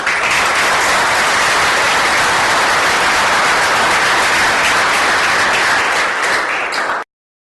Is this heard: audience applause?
yes